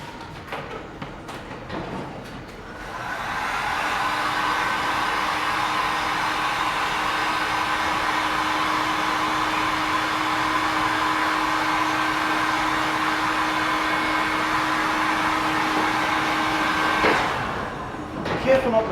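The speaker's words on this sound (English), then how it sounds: "I'll just grab the heater" A heater blows hot air to force-dry touch-up paint during a car paint chip repair, giving a steady, loud whooshing roar with a faint hum. It runs unbroken for about fifteen seconds, with clatter just before it starts and as it stops.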